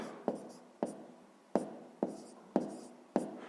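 A pen writes numbers on paper while a fifth-grade math exercise is worked out, six distinct scratchy strokes in a slow, even rhythm, close and quiet with no voices.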